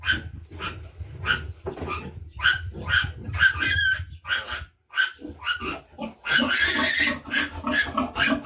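Pigs, a large sow with her piglets, some of them sick, grunting and squealing continuously up close and loud, with shrill high squeals bursting out near the end.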